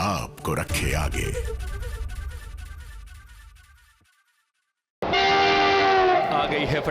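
Train horn sounding over a running train: rumbling rail clatter that fades away into silence, then a loud sustained horn blast with steady tones, no talk.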